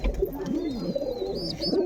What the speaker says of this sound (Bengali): অনেক পায়রা আছে।